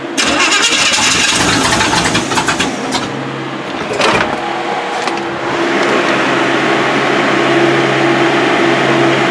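A 1979 Chevy K20 truck engine with a newly fitted carburetor cranks and catches, then runs at a loud, steady, rough idle close by, with no talking.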